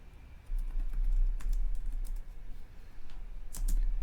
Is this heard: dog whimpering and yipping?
no